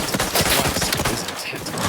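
Rapid gunfire in The Outer Worlds 2 rings out as a dense, continuous run of loud, overlapping shots, most likely from a pistol, with no let-up across the whole stretch.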